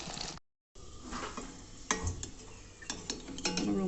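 Potatoes frying in a pan, with a soft sizzle broken by a short gap, then utensil scrapes and clinks as they are stirred.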